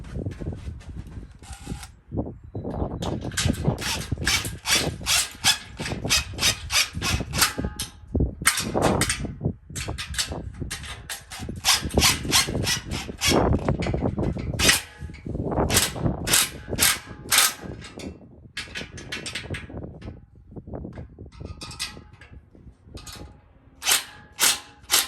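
Nuts and bolts with washers being tightened by hand, giving rapid, busy metallic clicking and ratcheting in bursts and pauses. The sound is close and continuous for most of the stretch, with no talking.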